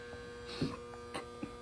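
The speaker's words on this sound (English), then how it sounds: "It's an electric motor." A Fairbanks Morse electric motor runs with a steady mains-frequency hum and faint harmonic tones, heard alone at low level with a few soft knocks and handling sounds.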